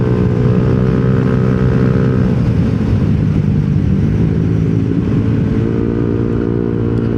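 A Yamaha Nmax scooter fitted with a TSMP CVT set revs hard, its loud, close engine holding a steady droning roar with slight rises and dips in pitch throughout.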